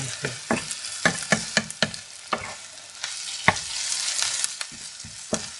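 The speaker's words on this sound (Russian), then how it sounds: "Сахар, да, добавили. Еще немножко пожарим. У нас уже лук румяный стал." Onions with sugar caramelizing in a frying pan, a bright continuous sizzle punctuated by repeated sharp scraping stirs of a utensil against the pan, close up with no talking.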